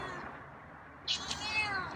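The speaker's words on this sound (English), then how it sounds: "That's a meow." A feral cat gives a short meow, with one or two fainter follow-up calls, quiet against soft outdoor background noise.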